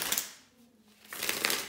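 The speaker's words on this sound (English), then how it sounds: "just give me a second here to shuffle the tarot cards" Tarot cards being shuffled by hand, a soft papery riffle at the start and a longer, brighter flutter of cards toward the end, close and fairly quiet with no talk.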